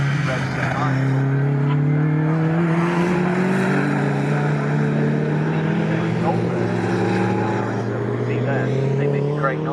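A loud rotary-engined race car drones and revs continuously with a buzzy, rising and falling pitch at Snetterton circuit, sustained for the whole stretch.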